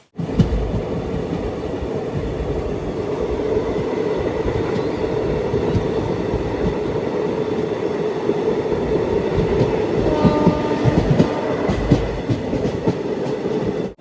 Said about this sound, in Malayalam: ട്രെയിൻ ഇപ്പോൾ അനന്തപുരം സ്റ്റേഷനിലേക്ക് എത്തുകയാണ്.